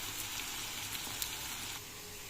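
Potatoes frying in a hot pan, a steady hissing sizzle with small pops, soft and constant before dropping slightly quieter near the end.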